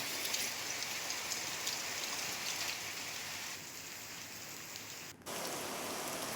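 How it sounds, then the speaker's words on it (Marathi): Heavy pre-monsoon rain shower in southern Ratnagiri, a steady, dense hiss of rain pouring onto surfaces, loud and continuous with a brief dip near the end, no voices. "दक्षिण रत्नागिरीमध्ये सुद्धा मान्सून पूर्व पावसाच्या दमदार सरी बघायला मिळाल्या"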